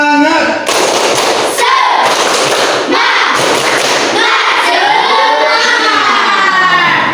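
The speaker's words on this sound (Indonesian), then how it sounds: "mari kita tepuk semangat" A school class does tepuk semangat, loud rhythmic group clapping in bursts between chanted voices, harsh and overloaded up close.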